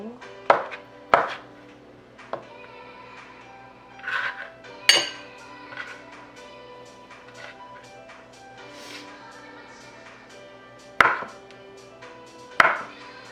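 A knife chops potatoes and boiled eggs for a potato salad, landing in irregular sharp knocks on a board amid clattering dishes and utensils, with long quiet gaps between the strikes.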